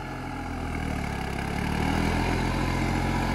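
A Deutz Fahr 70 hp tractor engine runs steadily in top low gear, a loud, continuous low diesel throb that holds close and constant with a slight rise in intensity.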